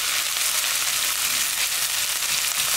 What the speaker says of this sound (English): It's gonna take about 3 to 4 minutes and to brown the onions.